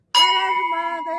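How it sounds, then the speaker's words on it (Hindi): A single metal temple bell struck once, ringing out bright and close with a clear sustained tone that slowly fades. "बजाओ घंटी।"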